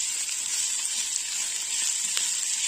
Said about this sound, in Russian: Слегка обжариваем.